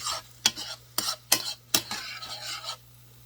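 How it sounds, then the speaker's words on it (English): Arborio rice with shallots and minced garlic is stirred and toasted in a hot pan for butternut squash risotto, with repeated scraping strokes of a spoon over a light, steady sizzle. "Just keep stirring it until it gets toasted."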